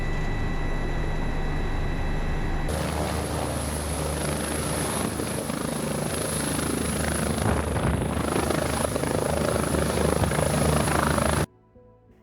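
A UW Health Med Flight medical helicopter descends onto a hospital helipad in Madison, Wisconsin. Its loud, steady rotor and turbine roar fills the scene before cutting off abruptly near the end.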